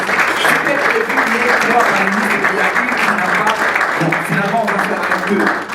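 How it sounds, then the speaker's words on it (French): Sustained rounds of applause from a seminar audience continue steadily throughout, full and close, with a voice talking faintly underneath. "Est-ce que vous pouvez accompagner avec des salves d'applaudissements"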